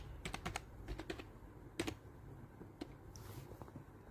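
A computer keyboard clatters with quick irregular keystrokes while a name is typed into an online admission form, the taps clustered early and thinning out later, close but soft with no speech.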